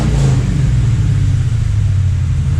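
A 1966 car engine fitted with Stainless Works long tube headers rumbles loudly and deeply at close range, a throaty, pulsing idle with low exhaust burble throughout.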